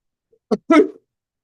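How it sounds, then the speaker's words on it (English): A single harsh cough from a presenter who is sick, two quick bursts close to the mic, followed by silence. "Excuse my cough."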